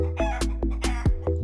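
Chickens clucking on a farm in the valleys of Muranga County, Kenya, near the River Sagana, a loud, close run of about five short clucks in a quick, even rhythm.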